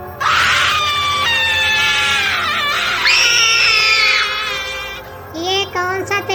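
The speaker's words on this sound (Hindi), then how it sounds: "सुनीता चीख कर उठी।" Loud, shrill screams from a woman in a Hindi horror cartoon, two long sustained cries that cut off into shorter breathy sounds and a brief voice at the end.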